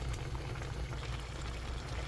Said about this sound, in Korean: 아주 맛있게 보글보글 끓고 있지요